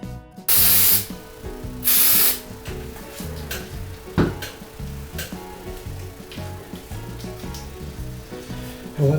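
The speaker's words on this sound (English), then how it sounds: "Gonna spray with some clipper oil, some disinfectant clipper oil." Disinfectant clipper oil sprays onto hair clippers in two short, loud hissing bursts, followed by quieter handling clicks and background hum.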